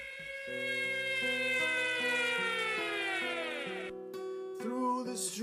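A wailing siren sweeps up and down in long, loud, steady cycles, close and clear, then cuts off briefly before a last swell, with no talk.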